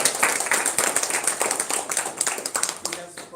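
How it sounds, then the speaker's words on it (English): An audience at a Toastmasters club meeting claps for a speaker, a moderate burst of applause with individual claps audible. "Let us give him a big round of applause."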